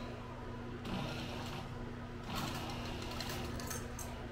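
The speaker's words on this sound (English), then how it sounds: "Put it under my sewing machine." A sewing machine hums and whirs steadily, its motor picking up pace in short bursts with a light mechanical clatter, fairly close.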